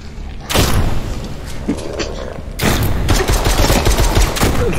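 In a VR zombie game, a pistol fires rapidly and loudly at close range. Two long, dense stretches of shots run together into a continuous barrage, with frantic noise underneath.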